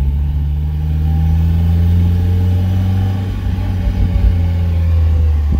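A Mazda Miata with a manual conversion runs while driving, its engine giving a steady, loud, throaty drone with a slight rise in pitch, heard close from inside the car without talk.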